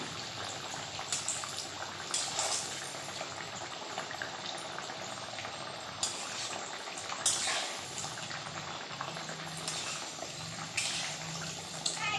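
Four pieces of a rainy-day snack fry in a pan over a medium gas flame, giving a steady, close crackling sizzle with scattered louder pops and no talking.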